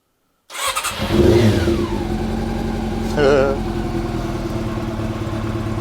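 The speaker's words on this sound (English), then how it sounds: "I've got ice cold engine. Let's try it with no choke at all." A Triumph Sprint 900 motorcycle with an ice-cold engine, unused for a week, is started without choke: after a brief silence the engine catches, revs up, settles into a steady idle and blips again, with a person talking over it.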